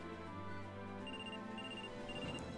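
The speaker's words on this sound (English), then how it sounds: "A phone call?" A phone ringing in the video game Trauma Center: Second Opinion, heard as repeated electronic ring tones over a steady background music bed, quiet and continuous, with no voices.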